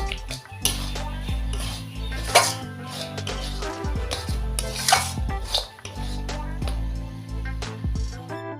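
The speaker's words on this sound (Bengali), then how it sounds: "এবার নেড়ে চেড়ে নামিয়ে দেব।" A pot of ash gourd and moong dal curry being stirred, with scattered spoon clinks and scrapes against the pot over a steady low hum, close and moderately loud, no talking.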